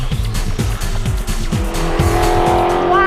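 A race car at Illiana Motor Speedway roars past loud and near at high speed, engine note sweeping and shifting, with a squeal of tires toward the end.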